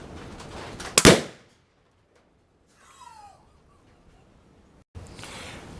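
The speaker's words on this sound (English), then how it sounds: "Now these are the louder ones, so we're expecting a little bit more of a bang, as well as the flash and the smoke." A Firebird Airflash reactive target shot outdoors bursts with a single sharp, loud bang, followed by near silence, a faint bird call and a rise of ambient noise.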